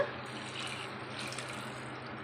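Water poured into a pot of soaked basmati rice, a steady close pouring and splashing sound heard alone for a couple of seconds.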